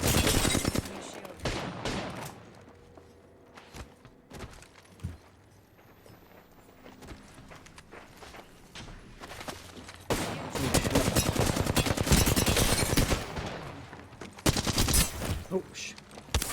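Bursts of rapid gunfire from the video game Apex Legends crackle in a 1v1 fight, loud volleys separated by quieter stretches of footsteps and movement, with a person talking at times.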